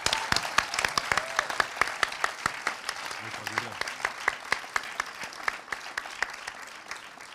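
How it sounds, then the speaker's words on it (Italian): An audience applauds at the Pordenone Docs Fest award ceremony. The claps are dense and sharp and come in a steady rain that slowly thins out, with a brief voice in the middle. "Facciamogli un applauso."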